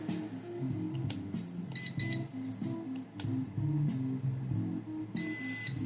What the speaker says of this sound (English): if you do a long press, it should beep at you